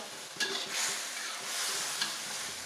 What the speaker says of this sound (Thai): รอให้เห็ดสุกดีก่อนค่ะ แป๊บเดียว